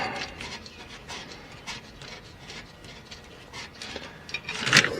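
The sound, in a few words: wrench removing generator adjustment bracket bolt on 1938 Buick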